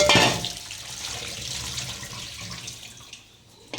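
Running tap water splashes steadily into a sink while small fish are washed, loudest at the start and easing off, with a few small knocks near the end.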